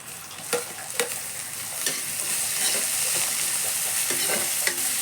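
Ginger and garlic frying in a pan for a pork and taro dish: a steady close sizzle punctuated by several sharp clacks of a utensil stirring against the pan.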